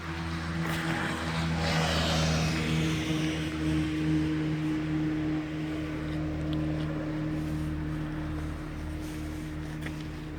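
A rare Honda P50 moped, restricted to 50, runs steadily during a ride, its small engine droning at a constant hum with wind rush, close and fairly loud throughout.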